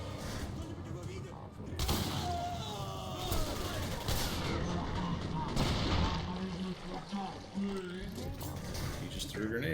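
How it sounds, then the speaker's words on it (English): A grenade blast and gunfire boom through a first-person shooter, Singularity, with heavy rumbling explosions under steady talk from a player. "You just threw a grenade."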